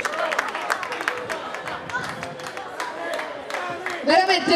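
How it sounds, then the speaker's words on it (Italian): Audience applause and scattered cheering for Los Vombicos taking the stage at the Festival degli incompresi, a steady burst of clapping under crowd chatter with a brighter surge at the end. "cogliamolo con un bel applauso"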